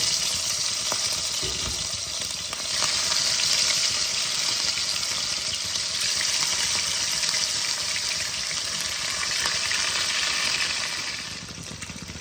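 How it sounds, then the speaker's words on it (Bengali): Pieces of catla fish fry in hot oil, giving a loud, steady, broadband sizzle that holds evenly throughout with no voices. "তেল আমার গরম হয়ে গেছে। এবার আমি কাতল মাছের টুকরোগুলোকে লাল লাল করে ভেজে নেব।"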